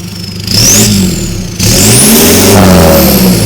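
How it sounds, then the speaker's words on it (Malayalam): A modified Toyota Fortuner's engine starts and revs loudly and close by, its exhaust note rising and falling through several throttle blips with a steady rumble underneath. "അപ്പോൾ നമുക്ക് ഇതിൻ്റെ എക്സോസ്റ്റ് നോട്ടൊന്ന് കേട്ട് നോക്കാം."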